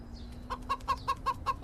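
A rooster clucks in a quick, even series of close, clear calls over a quiet outdoor background.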